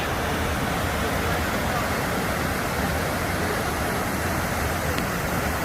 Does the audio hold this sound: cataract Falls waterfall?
yes